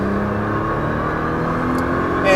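A Nissan GTR at full throttle on a driving course gives a loud, steady engine drone heard from inside, the tone holding level and swelling slightly at the very end.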